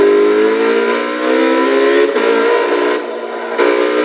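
A 2013 McLaren P1 twin-turbo V8 in Forza Motorsport 6 revs hard and loud, a sustained high engine note that dips briefly twice before climbing again, with no talk over it.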